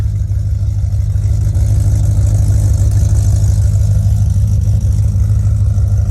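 A 1988 Corvette with a 383 V8 and a Magnaflow exhaust idles close by, giving a loud, deep, steady rumble with no talk over it.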